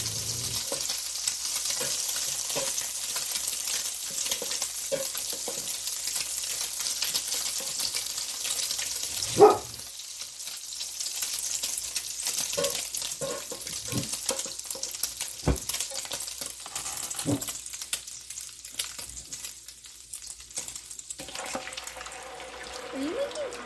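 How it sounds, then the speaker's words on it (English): Scrambled eggs sizzle and fry in a hot pan with a steady crackle, interrupted by stirring scrapes, a clatter, and a running faucet, while people talk nearby. "I am making scrambled eggs."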